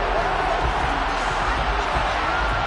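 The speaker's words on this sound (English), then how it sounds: "Well, the crowd doesn't like that." An NFL stadium crowd reacts angrily to a penalty flag, a dense, steady roar of disapproval that fills the whole moment with no breaks.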